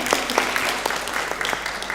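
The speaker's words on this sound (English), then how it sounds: "Let's clap for him also." Audience at an African curriculum association conference in Nairobi applauds a deputy minister, a dense wash of clapping with a few sharper claps standing out, moderately loud and close, no voices over it.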